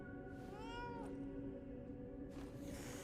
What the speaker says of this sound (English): Oh my God, a cat.